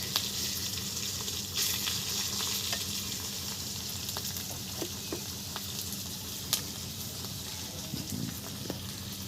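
Ground spice paste sizzles and fries with boal fish in a pan, a steady loud crackle with occasional stirring scrapes, no voices.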